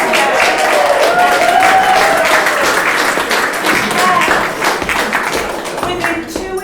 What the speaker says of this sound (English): Can everyone clap for Dom?